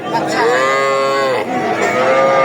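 A bovine lets out one long, loud moo close by, then a shorter follow-up call. The setting is a busy cattle market at Raniganj haat in Ghoraghat, where young bulls and heifers are traded.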